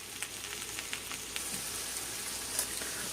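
Spinach wilting down in a hot pan gives a steady, quiet sizzle and hiss throughout, with a few faint crackles and pops rising above the even frying noise.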